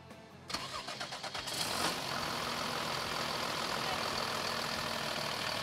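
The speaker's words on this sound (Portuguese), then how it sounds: "Diego, vamos ouvir o motor, você liga ela pra gente?" A BMC HL635AL wheel loader's diesel engine cranks briefly, catches and settles into a steady, loud idle, close by with no talk.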